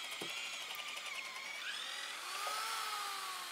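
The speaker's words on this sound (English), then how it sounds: "drilling these out with a big auger bit" A power drill with a big auger bit whines steadily at high pitch, its tone shifting as the bit bores into timber to clear mortises, with no voices.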